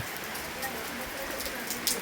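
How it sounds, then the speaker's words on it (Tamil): Heavy rain pours down around a roadside vendor's spot, making a dense, constant hiss of drops on surfaces. Faint voices sit low beneath the downpour. "நல்லா மழை பெஞ்சிக்கிட்டு இருக்குது"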